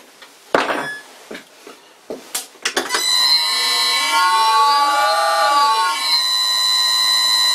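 A lathe motor belt slipping on its small pulley: a few sharp knocks and clicks, then a loud, sustained, whining squeal that bends in pitch and holds steady to the end.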